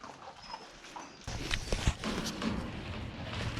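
Dogs stir and whimper nearby, showing they want more of their performance food. Soft shuffling and paw sounds come first, then a louder burst of movement with short, faint whines and thumps.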